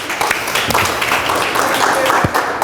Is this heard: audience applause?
yes